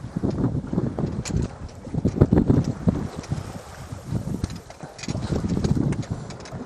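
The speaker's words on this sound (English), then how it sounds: "But got a little bit of wind" Wind gusting across a sailboat at sea off the coast of Portugal, a steady broadband rush with buffeting microphone noise and occasional water and rigging knocks, fairly close and continuous throughout.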